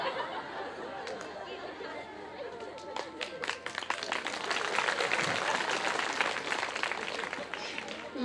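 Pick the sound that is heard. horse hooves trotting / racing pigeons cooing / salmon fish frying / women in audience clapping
women in audience clapping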